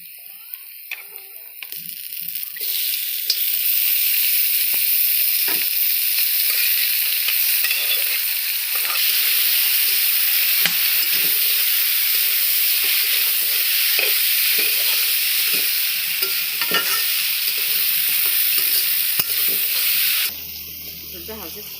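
Chicken pieces fry with garlic paste in a hot pan, a steady loud sizzle with repeated scraping stir strokes throughout, the frying noise dropping away abruptly near the end.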